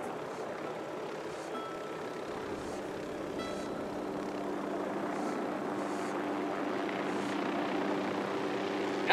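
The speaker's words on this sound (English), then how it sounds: "Helicopter, get down." A steady helicopter rotor and engine drone from the video game Ghost Recon Wildlands holds throughout, fairly loud and continuous, with faint intermittent higher tones above it.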